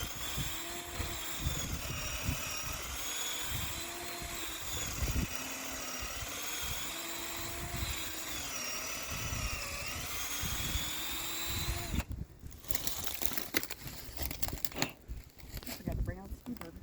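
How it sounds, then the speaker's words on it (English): A steady, whining drill runs continuously for about twelve seconds, boring an angled 2.5-inch hole into a tree trunk for tapping sap, then cuts out and is followed by rustling and handling noises. "when you're drilling into the tree, obviously it creates not only the hole"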